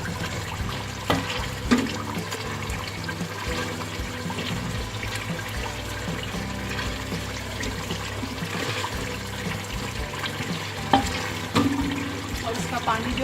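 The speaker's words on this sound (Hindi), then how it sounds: "अब मैं इसको ऐसे घोट दूंगी। अच्छे से सबको पीस लेना है।" Cooked turnips and meat being mashed and stirred in a pot, with wet squelching and scraping sounds that keep going steadily, close up, and a few louder knocks.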